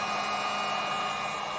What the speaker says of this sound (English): You can do it with the normal hairdryer too, but I have this industrial one